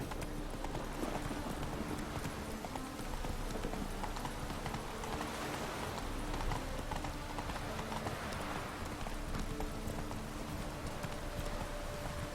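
Roach the horse gallops in the video game Witcher 3, hooves drumming in a fast, steady clip-clop rhythm against a dense, constant wash of game ambience.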